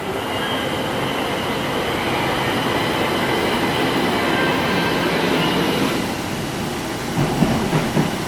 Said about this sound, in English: we are currently waiting at Wood Street for a red line train